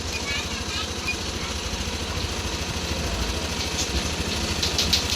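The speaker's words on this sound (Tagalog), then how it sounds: "So ito na siya pag in-start. One click, then smooth yung idle." A 2020 Yamaha Nmax v2 scooter engine runs at a steady, smooth idle close by, a continuous low throbbing hum that holds evenly for a few seconds.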